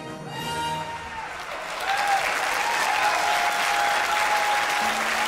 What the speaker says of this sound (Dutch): is er een staande ovatie en klapt iedereen vol bewondering